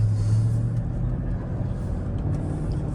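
Silver 2003 Mercedes SL500 with a Neomax conversion driving on Florida roads, a steady low engine and road rumble heard from inside the cabin, even and continuous with no talk.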